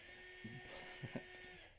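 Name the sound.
drill running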